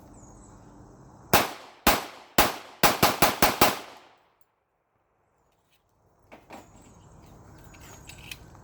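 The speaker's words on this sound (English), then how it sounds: "now let's just do a couple of mag dumps" A Guncrafter Industries firearm fires in rapid magazine dumps on a test range, with a string of sharp, loud shots quickening into a fast burst, then silence, then a couple more distant reports.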